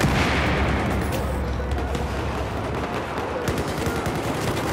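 Battlefield 4 gunfire on Xbox One keeps up a loud, dense, continuous rattle of shots and booms that fills the whole stretch with no clear gaps.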